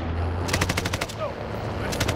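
Machine gun fire in the Call of Duty Warzone video game, a rapid burst of about a dozen sharp shots, a pause, then a few more rounds, all over a steady low vehicle engine drone.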